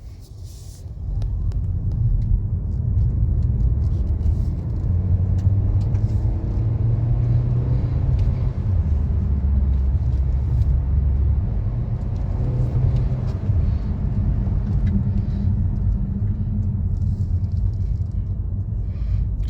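A 2024 Renault Symbioz E-Tech 145 hp full hybrid pulls steadily under acceleration, a loud continuous low rumble with road noise that holds for the whole stretch.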